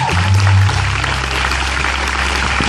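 A congregation at a church retreat applauds the Lord with steady, full clapping, while a low sustained tone hums underneath at the start.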